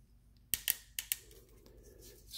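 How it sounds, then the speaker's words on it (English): A pair of cutters snips through electrical wires being prepared for soldering, giving four or five sharp close clicks in quick pairs against a quiet background. "The next method I use, we'll cut these off here."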